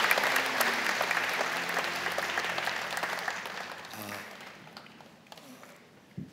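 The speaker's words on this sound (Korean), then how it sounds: "여러분 그의 박수로 환영하시죠." A church congregation at a Sunday service claps in welcome, giving dense, sustained applause that fills the room and then fades out, with a voice speaking over the end.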